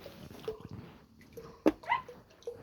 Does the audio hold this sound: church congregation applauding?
no